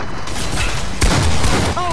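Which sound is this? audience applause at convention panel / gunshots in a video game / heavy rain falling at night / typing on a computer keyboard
gunshots in a video game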